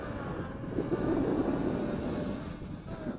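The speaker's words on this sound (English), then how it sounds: "Boy, is this a fast drone." A C Fly Faith 2 drone flies fast and low, its steady whine and whoosh heard from some distance, swelling briefly as it passes and then easing off.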